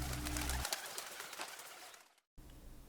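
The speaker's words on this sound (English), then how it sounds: "Pigeon," A pigeon coos softly among faint rustling and birdlike chatter, followed by a brief silence and then quiet background ambience.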